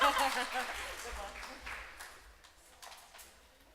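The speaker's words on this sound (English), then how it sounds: "Give them a big round of applause" An audience claps at a startup pitch event, a loud burst that quickly thins and fades over a few seconds, with faint voices underneath as it dies away.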